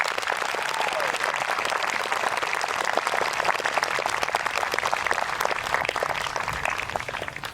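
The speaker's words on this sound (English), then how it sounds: "let's give them one more round of applause" A school audience gives one more round of applause to student participants at an eighth-grade promotion ceremony, a dense, even wash of clapping that holds steady and only thins at the very end.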